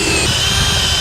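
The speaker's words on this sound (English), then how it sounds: "you need to drill these holes on all 4 sides" Power drill boring holes into wood for a woodworking project, a steady loud whirring grind lasting about a second with no talking.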